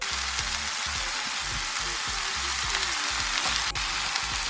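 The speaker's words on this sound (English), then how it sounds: "Let's throw in 1 cup of frozen corn." Frozen corn hits a hot pan and sizzles loudly and continuously, a dense, close crackling hiss with small popping bursts throughout.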